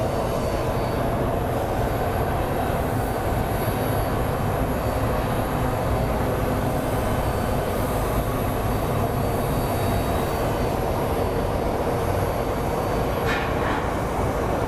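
An American Airlines Boeing 777 departs at Phoenix Sky Harbor, a constant broad engine roar with a high whine on top, steady and loud throughout with no talk.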